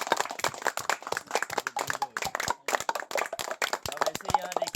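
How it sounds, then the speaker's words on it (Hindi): A class of children in a rural school claps for a classmate's science project, a dense burst of many small hands slapping together fast and unevenly, fairly near, with no talk over it. "एक बार ताली बजा दो"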